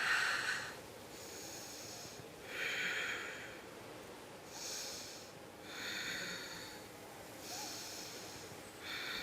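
Slow, deep breaths during a yoga boat pose, each inhale and exhale a soft, airy rush that swells and fades in a steady cycle, close and quiet with no talking.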